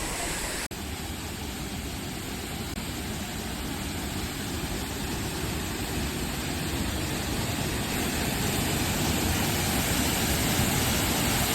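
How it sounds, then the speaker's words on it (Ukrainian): Steady roar of a waterfall in the Glenkar valley, Sligo, a dense continuous rush of falling water close by, unbroken and without voices. "Місце чудове, чарівний водоспад."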